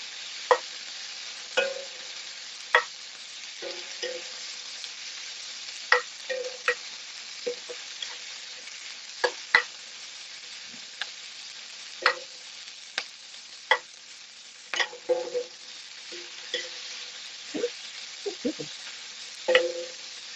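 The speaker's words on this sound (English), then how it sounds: "you're gonna pretty much saute them, like the peppers brown. Stir fry it" Peppers sautéing and stir-frying in a pan: a soft, steady sizzle broken by frequent sharp clicks and scrapes of a utensil stirring.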